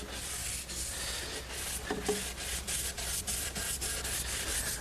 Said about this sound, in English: Then the next step is to simply rub it with the grain.